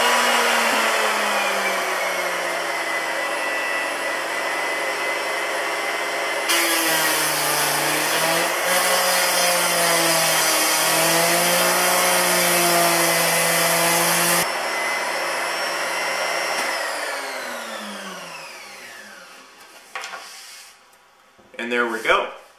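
A power tool bit cuts through plywood in a long, loud, steady whine that shifts pitch midway, winds down at the end, and gives way to a few brief knocks as it stops.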